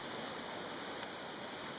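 A waterfall on the Skeena River where pink salmon leap: continuous, even rushing water fills the whole clip at a constant level, with no other events.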